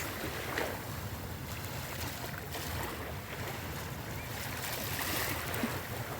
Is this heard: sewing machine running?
no